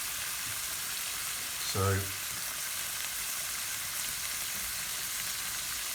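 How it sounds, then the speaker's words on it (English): Prawns and tofu frying over fairly high heat for Pad Thai, giving a steady hissing sizzle across the whole stretch, with a brief spoken word partway through. "that's sizzling away nicely"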